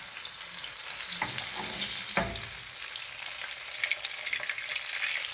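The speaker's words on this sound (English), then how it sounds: "And then you're gonna add in a nice spoonful of butter." A spoonful of salted butter melts and sizzles in a hot pan, making a steady, close crackling hiss with a few stirring scrapes and small pops, and no voices.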